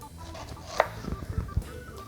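A knife cuts through a fresh pineapple on a board, a few soft thuds and juicy slicing noises close up, brief and irregular, no talking.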